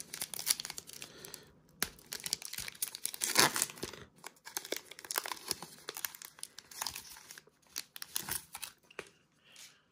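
Packs of 2021 Donruss football trading cards are torn open, with close, crisp crinkling and ripping of foil wrappers in irregular bursts throughout.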